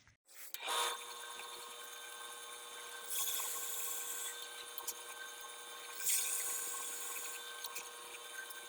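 A drill press bores a hole into a wooden guitar body, a steady whirring grind that starts abruptly and swells in a few louder cutting bursts, close and fairly quiet with no talking.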